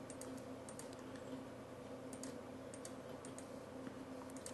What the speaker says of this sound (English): Hold down the shift button and click again to add more areas to our selection.